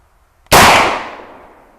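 A single loud rifle report from a Marlin 45/70 carbine fired outdoors while sighting in, a sharp close blast that decays over about a second with no talking.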